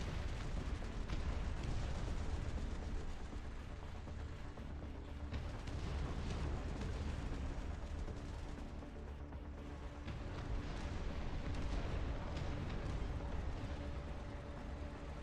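Heavy siege howitzer fire in a video game, a dense, continuous roar of booming low rumble and blasts that stays loud throughout with no lulls and no voices.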